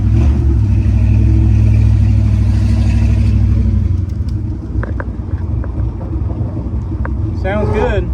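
A 1972 Ford Bronco on new tires pulls away for its first road test after repairs at a classic auto shop, its engine rumbling loud and close, then dropping in level as it drives off, with brief talk near the end.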